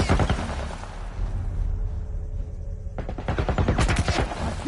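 Military turret gunfire in The Last of Us Part I, loud rapid bursts of shots at the start, a quieter lull, then another dense volley near and harsh.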